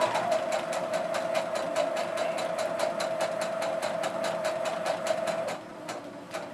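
A domestic sewing machine runs fast and steady, back stitching the seam of a fabric cross body bag, its needle clatter a close, even rhythm that eases off briefly near the end.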